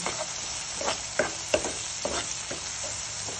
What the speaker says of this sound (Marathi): छान आपली फोडणी तयार झाली आहे।